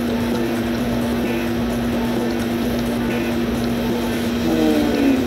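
Small motorboat engine in the video game Just Cause, a steady droning hum with a constant low tone running throughout, fairly loud and close, with splashy water noise mixed in.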